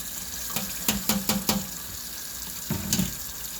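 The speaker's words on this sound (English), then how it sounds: "I'm just going to turn that over and let the water rinse that out" Water runs steadily from a tap into a sink, broken by several sharp splashing knocks and clatters as avocado-dyed paper pulp is turned over and rinsed under the stream.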